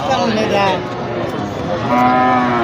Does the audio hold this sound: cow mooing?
yes